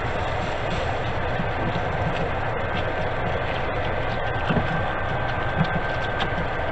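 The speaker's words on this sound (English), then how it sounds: "Whisk that up." Flour being whisked into hot fat in a pan to start gravy for chicken-fried steak, a steady, dense sizzling scrape that runs on without a break at close range and fairly loud.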